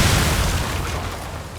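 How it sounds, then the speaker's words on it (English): A bomb blast in the video game Lies of P: a loud, broadband boom that hits at the start and rolls on as a dense rumble, slowly easing over about a second and a half, with no voices. "They throw bombs at you."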